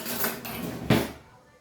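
A spoon stirs a ginger and fresh turmeric salad dressed with lemon juice, giving a few quick clinks and scrapes against a dish, close and fairly quiet, with one sharper knock near the end.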